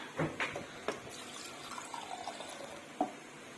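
Water from an Aquaguard purifier pouring into milk for tea in a home kitchen, a faint trickle and splash over a soft background hum with a few light knocks.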